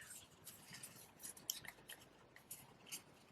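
Small scissors snipping through Lagoon ribbon at a card-making table, a series of faint, crisp cuts and light rustling, quiet and close with no speech.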